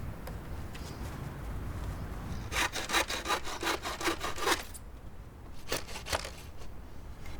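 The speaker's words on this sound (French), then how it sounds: "Il suffit de prendre les mesures et de scier la clôture." A handsaw cuts through a wooden fence panel in two bursts of quick, rasping back-and-forth strokes, close and fairly quiet, with a short pause between them.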